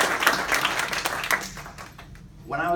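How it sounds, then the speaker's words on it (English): A crowd claps briefly, scattered hand claps that fade out before a voice starts speaking at the end. "Another round of applause for both Gigi and Hector."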